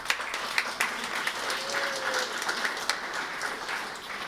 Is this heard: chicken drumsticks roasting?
no